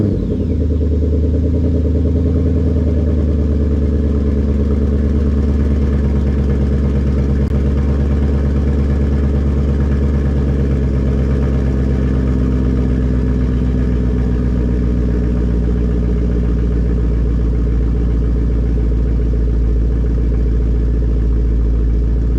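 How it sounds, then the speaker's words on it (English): A Mustang GT 5.0 fitted with a Roush axleback exhaust idles after a cold start, a deep steady rumble with a low lumpy pulse held loud and close, with no talk. "We're going to get you a cold start and some running footage"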